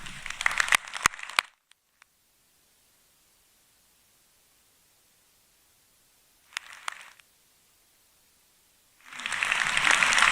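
Audience applause at a Bachelor of Science commencement ceremony at Trinity, coming in separate bursts: a loud spell at the start, a short faint patch in the middle, and a strong swell rising again at the end, with near-silent gaps between.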